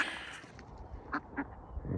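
Ducks quack while being fed, a few short nasal calls close by over a soft background, with a quick burst of quacks near the middle.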